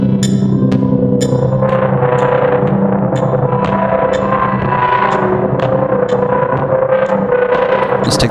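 Electric guitar through a tremolo effect, with sustained chords pulsing steadily in volume and faint rhythmic ticks on top, played close and loud with no talking.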